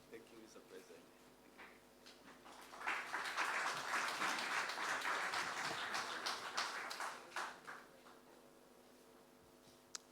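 A conference audience bursts into dense applause partway through, the clapping swelling to a steady roar for several seconds before tapering off, with some room noise around it.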